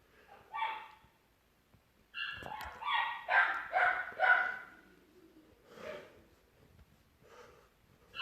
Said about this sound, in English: sorry if you guys hear my puppy barking